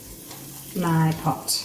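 Chicken biryani marinade sizzles and hisses in a hot pot over medium heat while a person speaks briefly over the frying.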